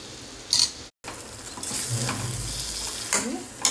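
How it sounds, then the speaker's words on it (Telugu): Long-cut eggplant pieces, soaked in salt water and washed, are stirred into hot frying oil for an Andhra-style curry, giving a close, steady sizzle with scraping spoon strokes and brief clinks, no voices. "అర కిలో వంకాయల్ని పొడుగ్గా కట్ చేసుకుని ఉప్పు నీళ్ళలో నానేసుకుని మళ్ళీ కడుక్కున్నాను చాలా దీన్ని ఇందులో పడేద్దాం"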